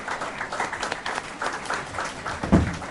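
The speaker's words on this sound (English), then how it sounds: "Can you applaud for him, children?" Children in a conference hall applaud an honored judge, a moderate round of clapping with uneven, separate claps and one sharp louder thump near the end.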